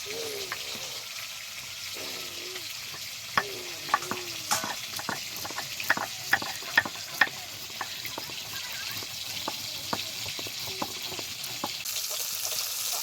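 Hilsa fish frying in a pan of oil while a shorshe ilish mustard curry is being prepared, giving a steady close sizzle with scattered sharp pops and spits throughout.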